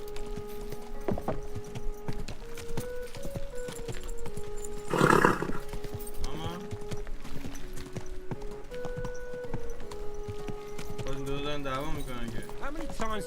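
Horse hooves clip-clop in a steady trot in the medieval video game Kingdom Come: Deliverance 2, running under ongoing game music and talk, with a brief louder burst midway.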